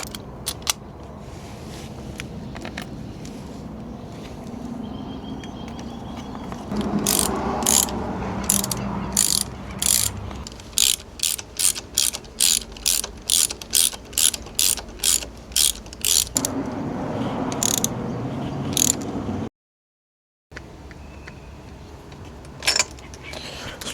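Ratchet wrench clicking as new iridium spark plugs are torqued into a BMW engine, rapid evenly spaced clicks in a long run over a low workshop background, close and fairly loud, with a brief dropout near the end.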